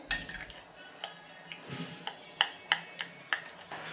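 A small spoon mixes ground coriander and cumin in a bowl, giving light, sharp clinks against the rim: scattered at first, then a few evenly spaced taps. Quiet, close and with no voices.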